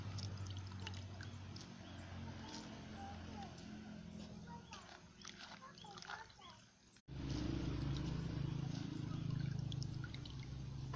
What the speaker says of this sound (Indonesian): kemudian kita buang airnya lagi